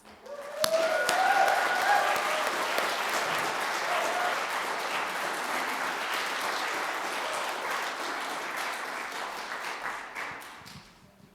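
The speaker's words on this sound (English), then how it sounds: "you have to stop clapping so I can turn on my mic" Applause from a seated audience at an indoor artist talk, a dense, steady wash of many hands clapping that starts abruptly and holds for about ten seconds before tapering off.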